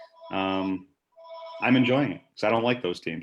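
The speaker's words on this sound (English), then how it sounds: "I apologize for the phone ringing." A landline telephone rings in a living room, its electronic trill repeating in bursts beneath a man's ongoing conversation.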